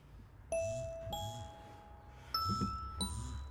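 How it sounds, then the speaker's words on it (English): Deep bell tones from the GripBeats bells deep sound played on a Mac, with several separate struck notes that ring and decay, some overlapping, heard fairly quietly in a room. "let's try the bells deep. So now we're going to be able to play the sounds of bells deep"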